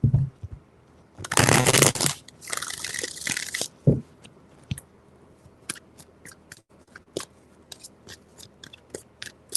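Tarot cards shuffled in two quick riffle bursts, crisp and close, followed by scattered light taps and card snaps in a quiet room.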